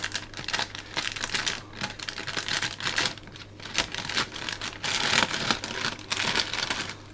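Scissors cut open packaging with crinkly, rustling snips and plastic crackle in uneven bursts, close and moderately loud, with no talking.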